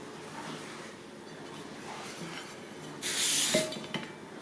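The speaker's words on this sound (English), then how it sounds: "I'll just spray these, make sure they don't stick." Canola cooking spray is misted onto pie tins in one short burst of roughly half a second, close and fairly loud against a quiet kitchen background.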